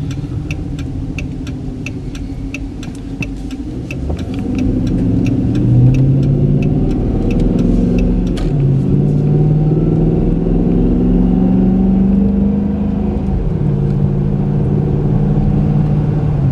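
A repairable salvage 2013 Dodge Charger R/T drives on the road, its engine a steady loud hum from inside the car that builds as it accelerates, with rhythmic ticking early on and road rumble throughout.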